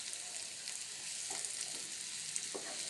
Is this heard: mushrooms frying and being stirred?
yes